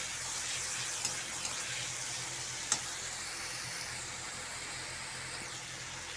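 Ground ginger, cumin, green chilli and turmeric paste with mustard sizzles steadily in hot oil for a puti fish curry, a soft continuous frying hiss with a few faint stirring clicks and no talk.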